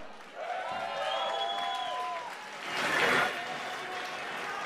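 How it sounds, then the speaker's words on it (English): Crowd at a Muay Thai fight event applauding and cheering after the bout, a steady wash of clapping that swells briefly near the end, with an announcer's voice running over it. "give him a round of applause."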